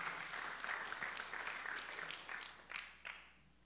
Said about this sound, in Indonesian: cukup kita beri tepuk tangan yang meriah buat Tuhan yang luar biasa